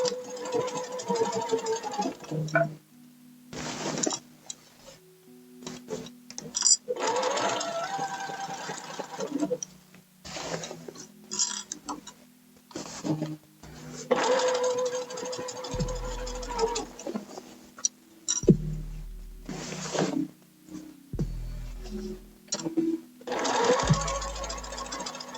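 Sewing machine stitching the seam of a wrap dress at a quarter inch, running in repeated bursts of close, rapid mechanical whirring separated by short stops, with low thumps in places.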